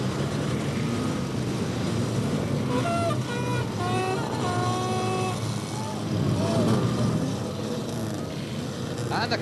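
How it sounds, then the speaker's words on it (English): Control car pulling away at the start of a 1975 saloon stock car race, a steady engine drone with a rising whine partway through, heard amid crowd and ambient noise. "the control car moves away at the start of this 20-lapper for the stock cars"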